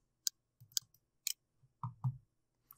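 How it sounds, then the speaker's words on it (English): Computer mouse clicks heard close and crisp as a few sharp taps, including quick paired clicks, scattered across a quiet background with no speech. "Now double click to open."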